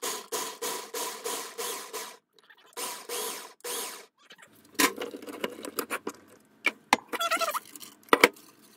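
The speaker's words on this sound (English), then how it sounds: "I'm gonna turn my power on, and I'm just going to pulse." A food processor pulses garlic cloves in three short bursts of loud, whirring chop, then the lid and blade clatter and knock as the bowl is handled.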